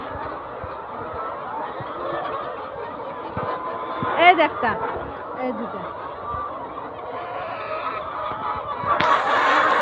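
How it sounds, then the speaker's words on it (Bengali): Chickens on a poultry farm cluck and squawk in a noisy barn, with a few sharper calls standing out, while a person talks over them nearby. "এই দেখেন সবগুলো মুরগি আমার দিকে তাকায় থেকে কর কর করতেছে।"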